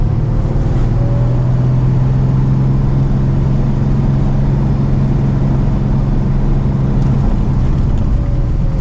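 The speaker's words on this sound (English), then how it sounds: "I love the engine braking on this car." A Porsche 993 engine braking on the road, a loud, steady low drone from the engine holding a constant note inside the cabin with no talking.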